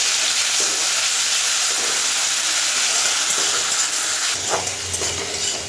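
Grated medium onion frying in hot oil for a fish curry, a close, steady hissing sizzle with occasional stirring scrapes and a brief clatter near the end.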